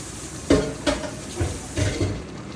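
Hilsa fish frying in a pan, a steady hiss of oil with several clanks and scrapes of utensils against the pan, close and fairly loud over a short span.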